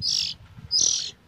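A 17-day-old hand-fed kater bird chicks out two high, bright chirps close by, each about a third of a second long and separated by a short pause, with no talking.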